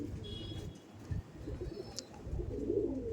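A Rampuri pigeon gives soft, low cooing calls close by, a few murmuring coos in a quiet setting with a brief faint high chirp.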